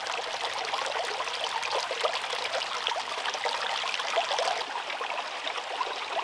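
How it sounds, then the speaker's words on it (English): A brook flowing beneath a footbridge in a secluded preserve, a continuous close babbling and trickling wash of water, steady throughout with no voices. "Take a minute to enjoy the sounds of flowing water in this secluded area."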